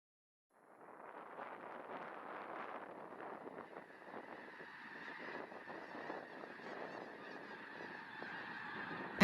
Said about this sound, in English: the geese arrive back at the refuge in late afternoon before roosting on seasonal ponds for the night